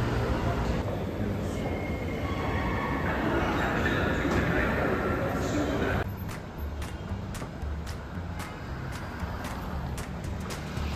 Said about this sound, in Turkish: Milano metrosunu kullanıyoruz.